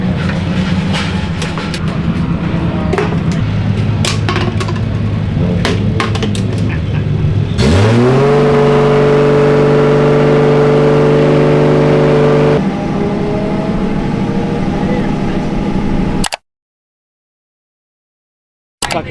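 A race car engine at the LZ World Tour sits at a rough rumbling idle, then revs up sharply into a sustained high drone held for several seconds before cutting off, loud and close with no talk.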